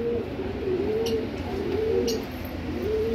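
Colored breeder pigeon pairs at a pet store, soft low cooing repeated in rolling phrases several times, close and fairly quiet over a steady background hum.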